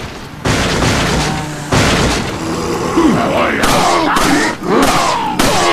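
Gunfire in the video game Resident Evil 4 comes as loud, booming bursts and repeated shots with game chaos between them, dense and close throughout.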